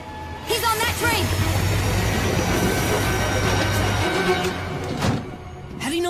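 A passenger train pulls away from a station platform, its heavy rolling rumble and clatter continuing steadily for several seconds while voices call out over it.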